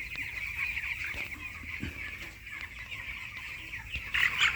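Eighteen-day-old broiler chicks crowd around drinkers in a poultry shed, producing a constant dense murmur of clucks and chirps with a few sharper calls near the end; no one speaks.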